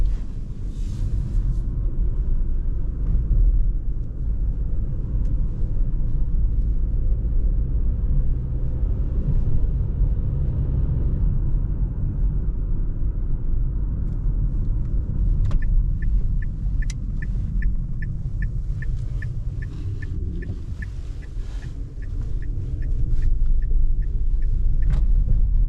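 Dacia Duster Hybrid, a 2024 Journey 140 HP automatic, rolling over a bumpy road at night: a steady low cabin rumble of road and engine noise, with faint rhythmic ticking entering partway through.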